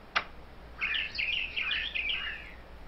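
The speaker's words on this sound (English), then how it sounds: "Nobody told me about any birds." Cartoonish birds chirp in The Simpsons: Tapped Out mobile game, a rapid run of bright, warbling tweets lasting about two seconds after a brief sharp click, fairly clear over a quiet background with no talking.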